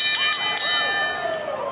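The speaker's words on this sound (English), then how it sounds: "The bell sounds." A boxing round bell rings in a series of quick metallic clangs ringing out over a crowd, its tone lingering and fading after the strikes.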